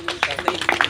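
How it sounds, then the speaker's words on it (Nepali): Clapping from a crowd at a book launch ceremony, a brief patter of overlapping claps heard beneath a speaking voice. "ताली पड्काएर"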